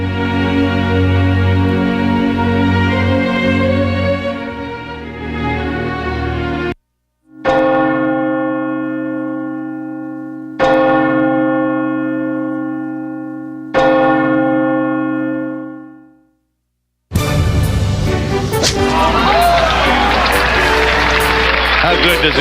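A memorial church bell tolls three times, each deep ringing strike rich in overtones and decaying slowly, preceded by another sustained bell tone and followed by a sudden burst of broadband crowd noise.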